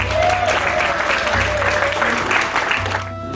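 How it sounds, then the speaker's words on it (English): An audience at the 2015 National Federation of the Blind of New Jersey annual convention breaks into loud, sustained applause, many hands clapping together before it fades at the end. "give yourselves a round of applause for being here"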